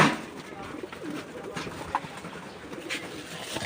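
Soft pigeon coos come in short bursts against a quiet, rustling background at feeding time, with a faint human voice at times.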